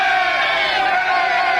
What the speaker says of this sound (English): Large cheer.